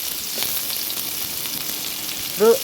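Chopped onions and green chillies frying in oil in a cooking pot, a steady close sizzle with faint stirring scrapes, a brief squeak near the end.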